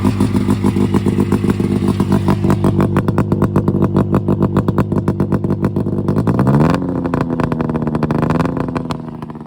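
A cold snowmobile engine fires up without choke and keeps running, a loud, steady mechanical drone with rapid firing pulses that rises in pitch as it revs partway through.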